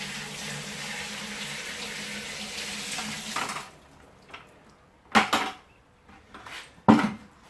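Liquid pours steadily from a bucket into a Robobrew Gen 3 brewing system for a few seconds, then stops, followed by quieter clunks and a couple of sharp splashes or knocks of the bucket against the unit.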